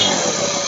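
Bajaj Avenger motorcycle idling with a faulty scissor gear and balance gear, giving a brief, loud, harsh buzzing engine noise close by, no talking.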